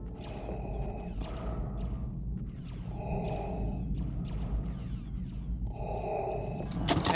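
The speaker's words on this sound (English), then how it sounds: "we're going to be testing whether Darth Vader has his signature breathing sound" Darth Vader's mechanical respirator breathing in the Fortnite video game, slow repeated inhale and exhale cycles, about three clear breaths, faint over a low game ambience.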